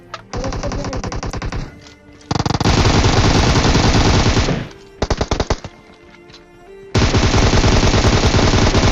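Bursts of automatic gunfire in PUBG Mobile, played on an iPad Air: long loud sprays of rapid shots, a short gap, a few quick separate bursts, then another sustained volley.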